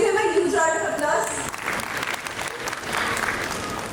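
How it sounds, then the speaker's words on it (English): A school annual-function audience breaks into a big round of applause after a child's performance, with a brief sung or tonal tail at first before dense, loud clapping and crowd noise take over. "Give him a huge round of applause"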